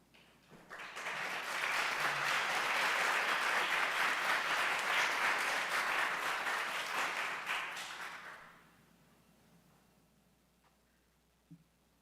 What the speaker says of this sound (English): we need a big cheer here right now